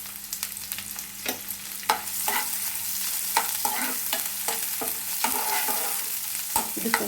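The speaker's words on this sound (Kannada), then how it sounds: "ಈರುಳ್ಳಿ ಮತ್ತು ಕರ್ಬೇವಿನ ಸೊಪ್ಪು ಹಾಕಿದ್ದೀನಿ ಇದು ಸಣ್ಣಕ್ಕೆ ಫ್ರೈ ಆಗಬೇಕು" Chopped onion and curry leaves frying in a pan, a steady close sizzle broken by repeated scraping stirs of a spatula, with no voices.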